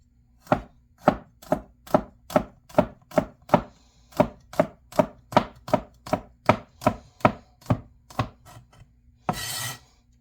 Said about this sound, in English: 1 clove of garlic. And we will just finely slice that one